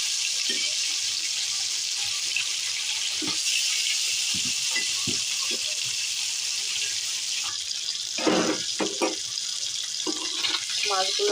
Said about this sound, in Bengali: এখানে আমি এখন পরিমাণ মতো সরিষার তেল দিয়ে আমি কই মাছগুলো ফ্রাই করে নেব